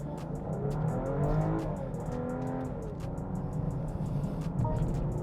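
A 2025 BMW X5 accelerates to about 100 km/h. The engine drones steadily and rises in pitch through gear changes, with a ticking, clicking sound throughout.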